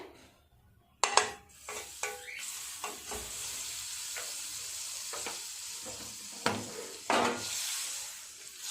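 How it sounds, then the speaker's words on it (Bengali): A little butter sizzling in a hot frying pan on low gas while making French toast, starting abruptly after a second of quiet, with close crackling and intermittent spatula scrapes and clicks against the pan. "প্যান গরম হয়ে গেছে দিয়ে দেবো অল্প একটু বাটার"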